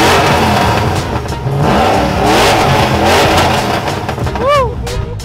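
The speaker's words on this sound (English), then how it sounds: "Now you can rev it." A new truck's engine revs hard several times, loud and close, with rising and falling roars, while excited voices shout and cheer over it.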